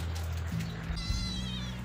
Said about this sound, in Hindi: हमारी बिल्लियाँ भी आ गई हैं